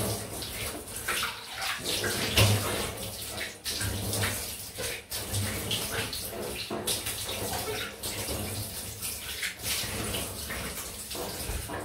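Water runs steadily from a tap for a rinse after a straight razor shave with a Drew Dick 7/8 quarter hollow blade, with a continuous splashing gush and faint irregular spatters.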